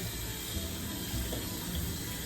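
Tap water running steadily into a sink to fill it with tepid water for cleaning a Mason Pearson hairbrush, a continuous close rushing stream with no pauses.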